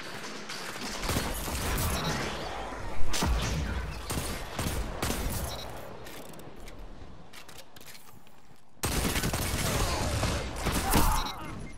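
Hand cannon fire in Destiny 2 multiplayer, a dense run of sharp shots and thumps layered with game effects, continuous and fairly loud throughout, with a slight faint voice under it.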